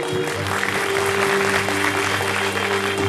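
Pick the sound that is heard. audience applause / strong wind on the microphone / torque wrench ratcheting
audience applause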